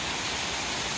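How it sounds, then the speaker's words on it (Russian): Water from the fountains on Piazza Venezia in Rome splashes steadily and evenly, a close, continuous broadband rush with no breaks and no voices. "Смотрите, какие тут фонтаны, обалденные!"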